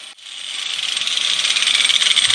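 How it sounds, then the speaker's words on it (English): An angle grinder making one long pass along the edge of a steel blade to dull it, a bright, shrill whine that starts abruptly and steadily builds in loudness with a slight pulsing grind, close and alone. "I'm just going to give it a nice long pass with my angle grinder here to help clean this edge up a little bit."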